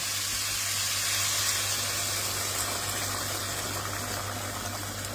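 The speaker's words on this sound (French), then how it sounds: "maintenant je vais ajouter l'eau bouillante" Boiling water is poured into a pot holding butternut squash, making a continuous, even gushing rush that lasts about five seconds without a break.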